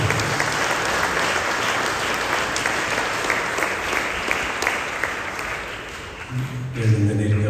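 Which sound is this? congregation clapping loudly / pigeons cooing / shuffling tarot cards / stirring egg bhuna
congregation clapping loudly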